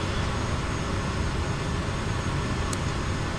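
Steady, even drone of a single-engine turboprop Daher Kodiak in Microsoft Flight Simulator, a constant broadband engine hum with no talk over it.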